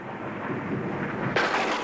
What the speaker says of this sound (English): The storm started.